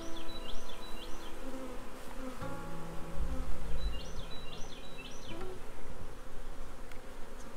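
A big honeybee swarm being captured into a hive box makes a dense, steady buzz close up, with single bees whining past now and then and faint knocks underneath.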